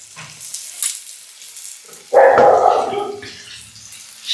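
Onion drops into a hot pan and starts sautéing with a sudden loud sizzle partway through, after a few quiet clinks and handling noises, then the frying hiss fades slightly.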